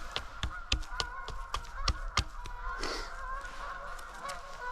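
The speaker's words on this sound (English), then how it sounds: "As you can see, the geese are still keeping us company." Geese honk repeatedly at a riverside wild camp, sharp nasal calls coming in quick irregular bursts and then thinning out, moderately near against a quiet outdoor background.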